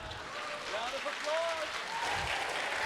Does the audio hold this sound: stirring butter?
no